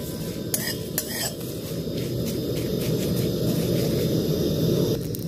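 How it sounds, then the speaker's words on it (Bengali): Whole dry red chillies and cumin seeds dry-roasted in a wok without oil, a steady low rumbling hiss with a few sharp metallic clinks of a utensil early on; no talking. "দেখুন লঙ্কাটা আর জিরেটা ভালো করে ভেজে নিচ্ছি"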